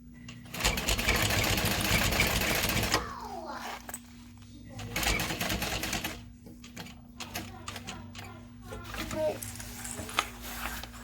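A sewing machine stitches a Phoebe backpack in rapid, buzzing bursts, running steadily, pausing for a pivot, then resuming in shorter runs, with a person talking between stitches.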